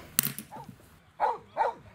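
Dogs at a dog daycare park: a sharp click, then two short barks or yips spaced a moment apart, moderately close amid faint background noise.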